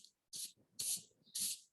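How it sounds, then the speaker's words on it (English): Spray paint can spraying a 3D print, three separate hissing bursts about half a second each with short pauses between, close and clear with no talking. "So I shake this beforehand. So just test it on the side. Okay, it sprays. So I start on the side."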